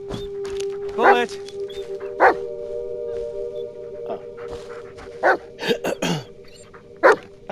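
A dog barking repeatedly in the Blair Witch video game, sharp barks and yips near and loud over a steady hum, with a voice speaking between them.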